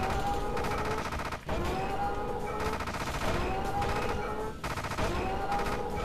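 Steady, continuous gunfire from the side-scrolling mech shooter Gigantic Army: rapid repeated shots over a constant bed of game music and effects, held at an even level with brief dips.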